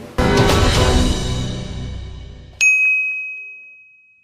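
A loud noisy burst gives way to a single bright notification bell ding that rings on and fades slowly.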